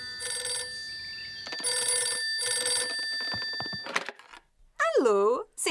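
A telephone rings in a children's cartoon, three long bursts of bright electronic ringing with pauses between, followed by cartoon voices and a sliding, warbling tone.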